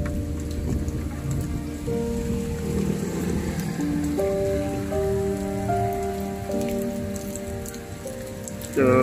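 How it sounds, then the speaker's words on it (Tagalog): Heavy rain pours steadily in Dumaguete, a dense continuous hiss of drops on surfaces, with faint tonal sounds in the background and a brief louder burst at the very end. "Lumalakas na naman, pero kanina yung starting ng ulan is sobrang lakas."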